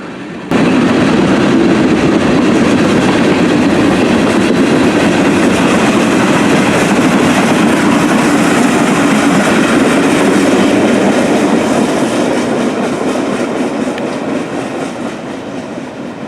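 A long CSX Q311 freight train led by a YN2 locomotive rolls past, its loud, dense rumble and clickety-clack of wagons continuing steadily before slowly fading toward the end.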